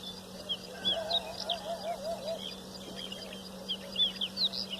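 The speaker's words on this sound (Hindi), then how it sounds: "मुख्तलिफ जो वो परिंदे हैं अपनी अपनी ज़ुबान में जो है वो बातें कर रहे हैं" Various birds chirp and call in the pre-dawn morning, a scatter of short tweets and warbling phrases at moderate distance over a faint steady hum, with no talk.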